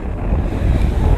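Wind blasts around a snow tent caught in spindrift, a close, low, roaring rumble that swells slightly and keeps buffeting without a break.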